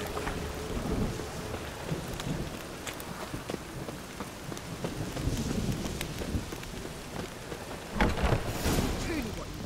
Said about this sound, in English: conjured rain.